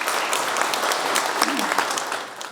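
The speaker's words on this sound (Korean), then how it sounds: "여러분 큰 박수를 부탁드리겠습니다" Attendees at the inauguration ceremony of the 19th president of the Korea Senior Citizens Association applaud to welcome a speaker, a full, steady burst of many hands clapping with a brief voice rising through it.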